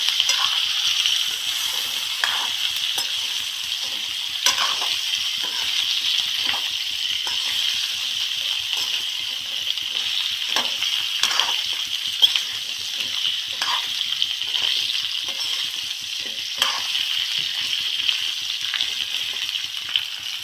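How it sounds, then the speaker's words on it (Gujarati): Carrots and green chilies fry in hot oil for a tomato-carrot sambharo relish, giving a steady close sizzle with repeated scraping clicks of a spoon as the mix is stirred, and no talking. "હલાવી નાખીશું આપણે, એટલે તેલમાં ગાજર મરચાં કકડી જાય"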